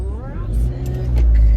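A car pulls out across two lanes of traffic on a morning commute, heard from inside as a loud engine rumble that builds while the car accelerates, with other traffic passing nearby.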